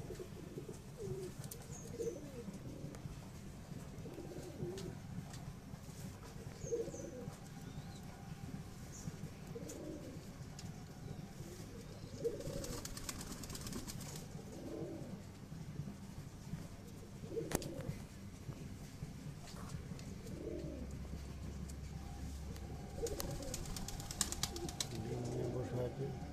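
Pigeons in a high-flying breeding loft coo repeatedly in soft, rhythmic low calls about every couple of seconds, fairly faint, with a person talking quietly over them.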